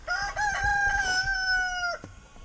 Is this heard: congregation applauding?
no